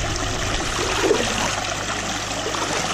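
Water sloshes and trickles steadily as gravel is shaken and washed out of a gold pan in Cherokee County, Georgia, a close, continuous watery wash with no voices.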